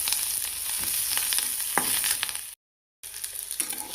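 Fresh curry leaves dropped into hot oil for tomato chutney, already frying with garlic and onion: a steady loud sizzle and crackle with stirring scrapes, briefly cut to silence, then the sizzling resumes.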